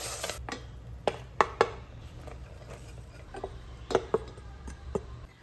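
Rice flour being stirred into hot water in a pot for ukadiche modak dough, sparse sharp clinks and taps of the spoon against the pot over a quiet background, irregularly spaced and fairly close.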